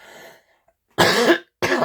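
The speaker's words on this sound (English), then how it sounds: "Excuse me for coughing." Two harsh coughs, close and fairly loud, following a brief moment of quiet after a faint voice.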